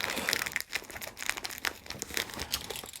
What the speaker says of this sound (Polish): Najpierw muszę ściągnąć folię. delikatnie ciąć, żeby to niczego nie uszkodzić.